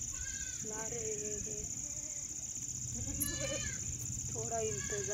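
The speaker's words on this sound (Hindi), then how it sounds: "ये बकरी" Goats bleat several times during milking, repeated wavering calls over a steady background hum while a person talks.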